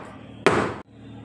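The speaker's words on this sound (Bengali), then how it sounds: "এবার দেখো বাটিটা ভালো করে ট্যাপ করে নিচ্ছি" A bowl of cake batter gets a single sharp tap, a short, dull knock in an otherwise quiet kitchen.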